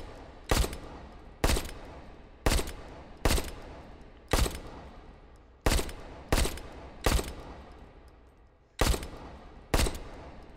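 Browning HP pistol fires 13 single shots in the H3VR video game, each a sharp, loud crack with a short decaying tail, spaced roughly a second apart with one longer pause before the final pair.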